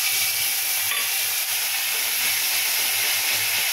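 Nigella seeds and green chilli sizzling in oil left from frying fish, a loud, steady high hiss of hot oil close up with faint clinks underneath.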